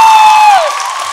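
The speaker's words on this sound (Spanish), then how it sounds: "Aplausos para Joel." A studio audience applauds and cheers a contestant on a television competition show. The sound is loud and close, with a crowd wash and a bright sliding tonal line that falls away partway through. Over about a second, the broad applause carries on alone.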